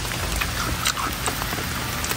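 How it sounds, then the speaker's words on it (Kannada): Heavy rain falls in a forest, a dense, steady patter of drops striking leaves and surfaces nearby, with no voices. "ಫುಲ್ ಮಳೆ, 20 ನಿಮಿಷ ಆಯ್ತು ಮಳೆ ಬರೋದು"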